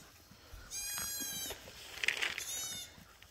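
Goats bleat near a wooded pasture during a herd move into the woods, two loud drawn-out calls with a scrape and rustle between them, no talking.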